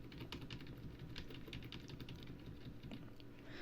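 Computer keyboard keys being tapped, including the ESC key at a PC boot menu: a steady run of quick, close, crisp clicks over a low background hum, with no voices.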